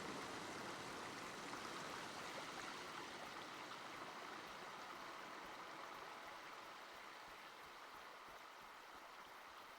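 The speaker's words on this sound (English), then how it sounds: "I forgot about the waterfalls" Waterfalls in the video game Season: A letter to the future, a steady broadband rush of falling water, constant and fairly loud throughout, gradually settling slightly quieter toward the end, with no voices.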